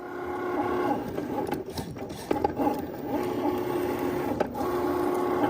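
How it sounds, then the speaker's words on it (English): A Cricut cutting machine cuts a library shape, its motor whirring in short back-and-forth passes with clicks and brief pauses, close and moderately loud, with no talking. "The machine is ready, so we can press the cut button, which is the Cricut logo."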